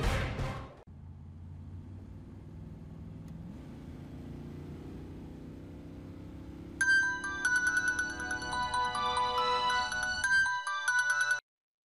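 A mobile phone ringtone plays a bright repeating electronic melody, loud and close, starting partway through after a low steady car engine hum, then cutting off abruptly.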